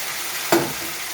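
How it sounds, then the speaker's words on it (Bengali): Fried mixed vegetables tip into cooked masala in a pan for labra, a sharp short burst of sizzle with a clatter over a low background hiss, close and brief. "এবারে আমি দিয়ে দেবো ভেজে থাকা সমস্ত সবজিগুলো"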